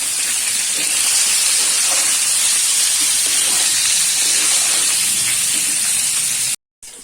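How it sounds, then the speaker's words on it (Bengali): Pointed gourd (potol) seasoned with salt and turmeric fries in hot oil with a loud, continuous sizzling hiss that holds steady and close, broken by one brief gap near the end. "এবার পটলটা ভাজবো।"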